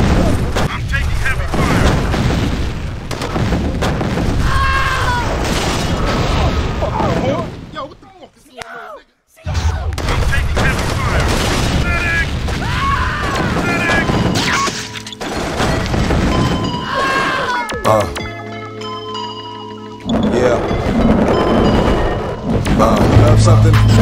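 Loud, dense bursts of explosions and rapid gunfire in a real-time strategy game base attack, crashing continuously with a brief drop near the middle, while voices talk over the battle.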